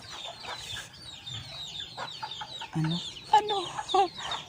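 Chickens cluck in short bursts over a low, steady background hum, with a few sharper calls near the end.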